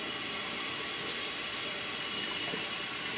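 Hot water running steadily from a tap into a sink for washing out a mini fridge's parts, a constant close, full hiss of flowing water with no voices.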